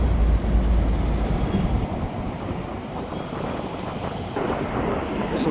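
A random mix of freight cars rolls steadily past at close range, a continuous low rumble and rattle of wheels on rails with no voices.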